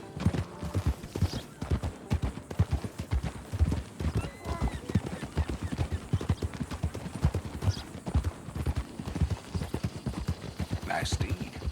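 Horse hooves clip-clop at a steady walking pace in Red Dead Redemption 2, a continuous rhythmic clatter with occasional faint snorts, while voices talk over it.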